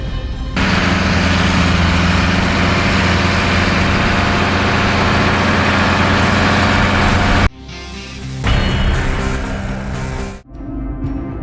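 A bucket wheel excavator at a coal mine runs with a loud, steady machinery roar and hum, then drops sharply near the end before a brief rumbling surge and fade.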